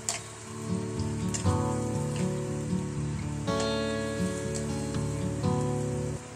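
Sun-dried jackfruit sizzling in mustard oil with a pinch of asafoetida, a steady crackling fry heard under strong sustained musical tones.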